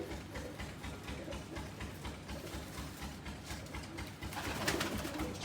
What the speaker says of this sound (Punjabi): ਇਹ ਬਾਈ ਗਰਦੇਵ ਵਾਲੇ ਕਬੂਤਰਾਂ ਚੋਂ ਬਣਿਆ ਹੋਇਆ ਪਿਓਰ ਕਬੂਤਰ ਆ